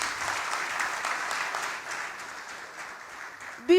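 Applause from the audience at a Ghana presidential candidates' peace pact event, a sustained wash of clapping that slowly thins out, ending with a short loud tonal burst.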